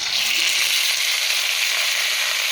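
Pork dropped into hot oil for Bicol Express, a loud, dense, continuous sizzle and crackle up close, with no talk.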